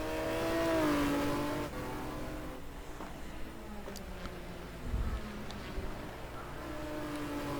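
A McLaren F1 race car engine in a GT racing game at Suzuka, a high revving whine that rises then drops as the car passes, followed by quieter engine drone with brief sharp transients.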